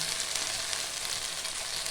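Okra fries in a pan with a dense, even sizzle, close and continuous, without any talking.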